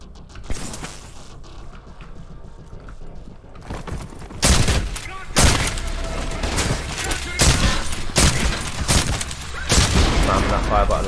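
Rapid gunfire in a chaotic video game, bursts of loud sharp shots in quick clusters with mechanical clatter between, growing denser toward the end.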